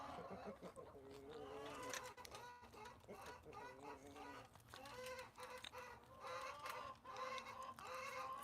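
Many chickens cluck and squawk loudly and continuously inside a coop, a dense, busy commotion of overlapping calls close by with no talking.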